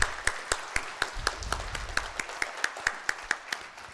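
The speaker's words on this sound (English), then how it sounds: "Give yourself a round of applause." Scattered clapping from a small audience at a community meet-and-greet talk in Canada. Fairly faint, with a few distinct regular claps standing out over a soft, sparse patter.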